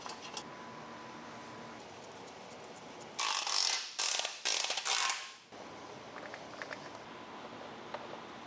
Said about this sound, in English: Throwing the axle puller in makes it nice and easy to pull these axles right through the hub.